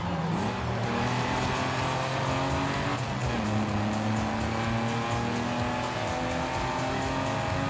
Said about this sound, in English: Look at that E-Type just like basically effortlessly pull away.